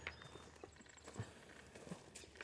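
A horse walks with a few soft, sparse hoof clip-clops on a farm, faint and irregular against a quiet background.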